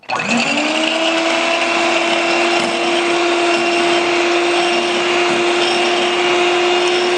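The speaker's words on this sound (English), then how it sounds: "now those 3 egg whites that we put aside, we are going to beat them" Three egg whites being beaten with an electric mixer: a loud, steady motor whine that starts abruptly and holds an even pitch throughout, close and continuous with no talking.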